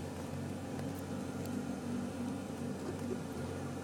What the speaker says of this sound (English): 1979 TC3 accelerating